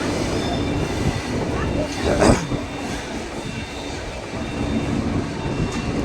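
Shalimar to Puri weekly superfast express pulling through Shalimar station behind a diesel locomotive: a steady near rumble of wheels and carriages, with a brief squeal or screech in the middle.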